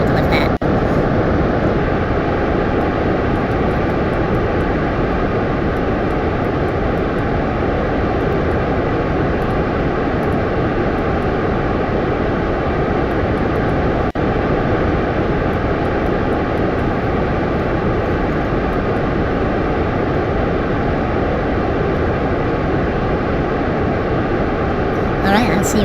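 Rocket engines at lift-off in the Kerbal Space Program video game make a continuous, loud, broadband roar that holds steady for the whole stretch.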